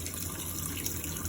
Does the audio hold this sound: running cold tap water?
yes